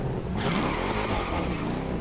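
A car with a swapped engine in The Crew Motorfest video game revs hard, a loud, whining engine climbing in pitch with a high tonal whistle over the roar.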